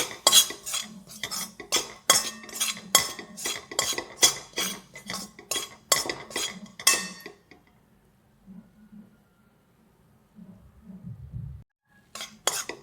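A spoon stirs and roasts moong dal halwa with semolina and gram flour in a pan, making rapid clinking metal scrapes for about seven seconds, then near silence with a faint low rumble before a brief return of clinks.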